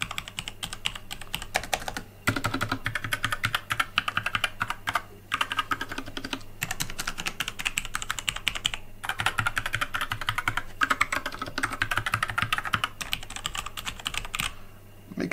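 Rapid, continuous clacking of typing on a Kraken Pro 60% mechanical keyboard with brown switches, close and even-paced with a few short pauses, no talk.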